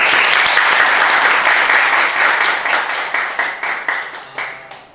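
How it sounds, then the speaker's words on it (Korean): Applause from an audience at a high school history club lecture on national and colonial views of history, a dense steady clapping that gradually thins and fades toward the end. "자, 박수."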